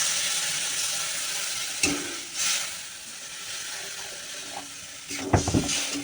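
Water is poured into sizzling spiced masala in a pan for a Bengali fish curry, a hissing fry settling into a softer bubbling sizzle with a few clatters of stirring, close and fairly quiet.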